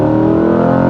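A 2021 Chevrolet Corvette C8 Z51, its rear-mid-mounted engine of just under 500 horsepower, hums in a loud, steady, continuous rev with no talking.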